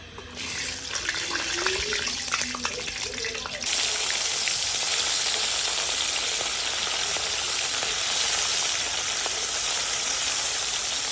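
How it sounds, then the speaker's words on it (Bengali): Khoyra fish pieces fry in hot oil with salt, giving a loud, continuous hiss that swells and stays steady after a few seconds. A voice talks briefly near the start. "মাছগুলো দিয়ে আমি উল্টে পাল্টে ভেজে নেব"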